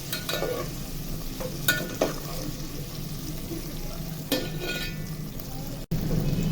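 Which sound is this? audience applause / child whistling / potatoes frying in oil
potatoes frying in oil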